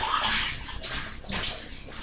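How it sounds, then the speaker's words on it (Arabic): Water is poured slowly into a glass jar of lemons being pickled, a steady splashing gush that swells and eases over two seconds, loud and close with no talk. "نجيب بقى مية ونحطها فيها كده بالراحة."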